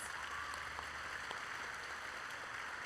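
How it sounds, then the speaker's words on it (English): Steady, dense applause from a crowd at a high school sports awards ceremony, a continuous wash of clapping at even loudness throughout with no voices. "let's go ahead and give our special guests a round of applause"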